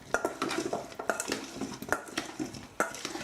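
Seasoning with cayenne pepper mixed by hand in a bowl, heard as a steady run of close scraping and clinking of a utensil against the dish, moderately loud and without speech.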